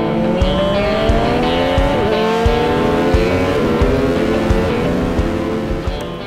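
An MV Agusta F3 800 motorcycle engine runs loud and close on its own, its strong harmonic tone climbing and dipping in pitch as it revs, with a steady underlying pulse.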